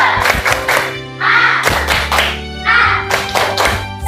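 Children in a classroom do a rhythmic spirit clap, sharp group claps in short bursts with chanting voices between them, loud and close.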